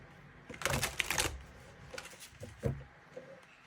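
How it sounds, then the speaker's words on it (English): Tarot cards laid out face down in four rows of six for a past life reading, making soft, close papery slaps and clicks in short irregular bursts with pauses between. "I'm going to lay the cards out."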